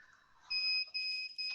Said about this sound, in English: And if you hear the beep, that is nothing to be alarmed here. Is just another level of security here in the house.